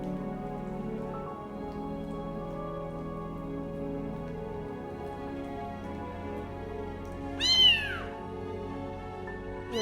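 A rescued, abandoned kitten gives one short, clear meow near the end, standing out above a steady hum of background noise, with no talking.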